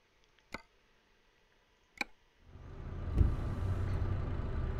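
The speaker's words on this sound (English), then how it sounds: "let's go ahead and turn the engine sound down" After two sharp clicks against near silence, the engine of a truck in Euro Truck Simulator 2 rises into a steady low drone that holds at moderate loudness to the end.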